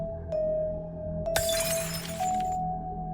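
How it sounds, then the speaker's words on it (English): Window glass shatters at the back of a house, a sudden crash followed by a second or so of scattering shards over a steady low hum, with no voices. "the tranquility of that night shattered with the sound of breaking glass"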